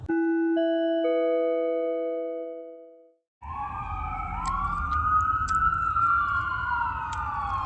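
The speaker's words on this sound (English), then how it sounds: "what is now sounding its sirens consistently right now" An American Medical Response ambulance siren wails nearby at night: a steady tonal chime first, then after a brief gap a rising and falling yelp over traffic rumble.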